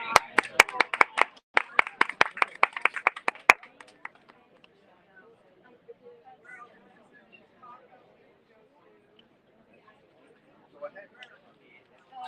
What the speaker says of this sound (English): let's welcome and give a round of applause to Maria Alice Silva